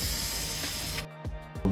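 Aerosol primer sprayed onto repaired car body work, a steady close hiss lasting about a second before cutting off, followed by a few faint clicks and short bursts.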